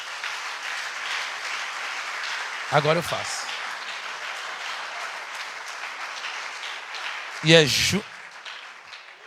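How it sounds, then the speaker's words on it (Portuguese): A church congregation applauds at a fourth-anniversary service, moderate clapping running throughout, with two brief spoken phrases heard over it. "Você pode aplaudir ao Senhor,"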